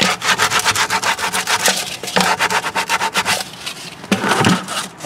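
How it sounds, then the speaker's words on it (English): Sandpaper rubs rough edges and burrs off a cut hole in a hydroponic Dutch bucket, making fast, rhythmic back-and-forth scratching strokes up close with a few brief pauses. "I got a piece of sandpaper here to sort of get rid of the rough edges, any burrs that might be left"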